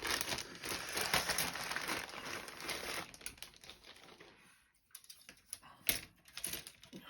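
Plastic parts bags from a Tamiya 1/35 German 88mm Flak 36/37 model kit rustle and crinkle as they are handled and opened, a busy close crackle for about three seconds, then sparser crinkles and small taps after a brief pause.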